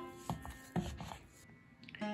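Soft modak dough being kneaded by hand after water is worked in, giving a few close, muffled presses and squelching rubs at an uneven rhythm with quiet pauses between.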